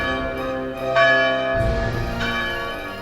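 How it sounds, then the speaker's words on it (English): Wedding church bells chime together in a bright, ringing peal, with overlapping strikes that swell and sustain over a low rumble, loud and close with no voices. "the kingdom rejoiced as the wedding bells chimed, announcing the marriage of John and Elizabeth"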